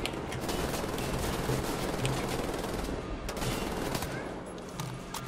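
Dense, rapid cannon gunfire rattles continuously in the video game Wolfenstein: The New Order, loud and sustained for several seconds.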